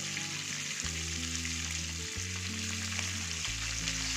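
Masala-coated fish fries on a hot tawa, a loud, dense, continuous sizzle and spatter heard up close with no talking.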